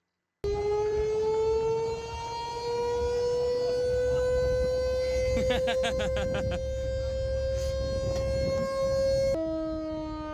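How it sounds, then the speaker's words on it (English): A loud wailing fire truck siren rises slowly and holds steady for several seconds, with a rapid stuttering rattle partway through, then drops in pitch as it winds down. "we got that running, and we even got to make the siren go a little bit"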